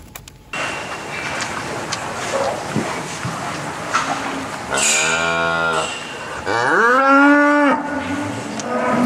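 A cow on a farm lowing two long, loud, close moos in the second half, preceded by rustling and indistinct farmyard noise in a barn.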